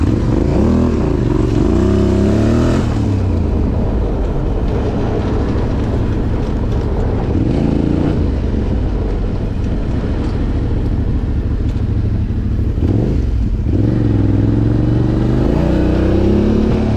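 A vehicle engine revs hard and pulls away, a loud, continuous drone with rising and falling pitch sweeps as it accelerates and shifts, staying close and heavy throughout.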